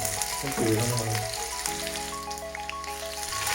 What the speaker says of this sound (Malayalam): നമുക്ക് ഓരോന്നായി വെളിച്ചെണ്ണയിലിട്ടിട്ട് ഫ്രൈ ചെയ്തെടുക്കാം